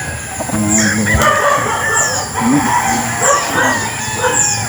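Chickens clucking in a farm enclosure, with overlapping hen calls and a rooster crow rising over a steady background hum.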